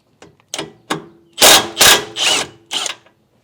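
Impact wrench or power ratchet loosening a 22 mm nut on the rear toe arm of a Mitsubishi Evo 8/9: a few short mechanical bursts, then several louder, longer whirring rattles in quick succession, close up with no talk.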